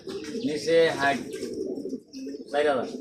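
Pigeons coo in low, throaty rolling bursts close by, with a brief pause before another round, as people talk at a pigeon market.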